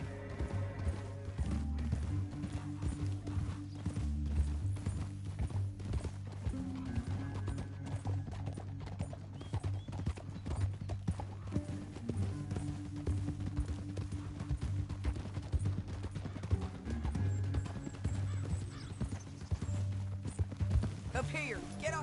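Horse hooves clip-clop steadily throughout a ride in Red Dead Redemption 2, with an even pounding rhythm sitting under game music and spoken dialogue.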